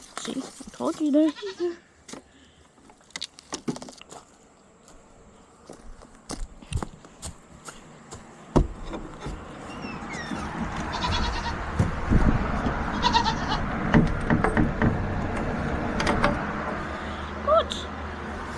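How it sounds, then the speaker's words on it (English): Goats bleat on a farm, several clear calls in the first seconds and more scattered throughout, with footsteps and a rising wash of outdoor noise and movement later on; people speak at times. "Goats."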